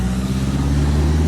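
A car drives along a road in a steady low engine rumble that stays even and fairly close, with no voices.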